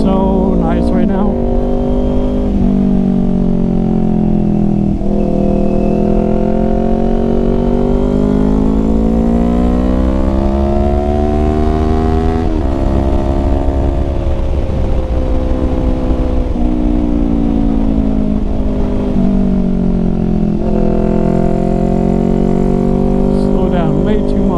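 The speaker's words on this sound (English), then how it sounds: "I don't know if you guys can hear the bike, but it sounds so nice right now." A Kawasaki Ninja 400 motorcycle being ridden gives a continuous, loud engine drone that swells and dips in pitch as the rider rolls on and off the throttle, with wind noise and occasional talk.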